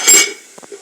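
A lid set onto a cooking pot while beef simmers before potatoes go in, giving a loud metallic clink up close, followed by a few faint, soft taps.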